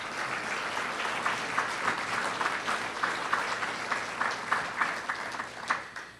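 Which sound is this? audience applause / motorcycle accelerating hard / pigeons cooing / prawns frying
audience applause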